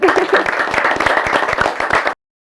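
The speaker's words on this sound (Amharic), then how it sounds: "ጎበስ አጨብጭቡላት" Loud, close audience applause for a woman on stage, many hands clapping in a dense steady burst for about two seconds before cutting off abruptly.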